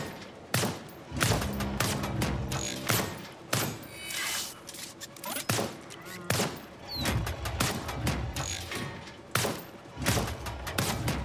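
Gunfire from the player's weapon in the video game Lost Sky: a steady series of sharp, punchy shots at irregular intervals, each one fairly loud and close, with a busy background between them.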